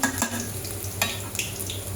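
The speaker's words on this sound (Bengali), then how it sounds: "চিংড়ি মাছ তেলের মধ্যে ভাজা হয়েছে" Shrimp fry in hot oil with a dense, steady sizzle, punctuated by a few quick spatula clatters as they are stirred, close up and alone.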